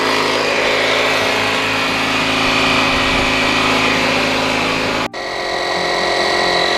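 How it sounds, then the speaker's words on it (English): A leaking air compressor runs loud and steady as it fills its tank, a constant mechanical drone close by that cuts out briefly near the end and then resumes. "I don't think this air compressor, because it's got a little bit of a leak in it, is going to stop running"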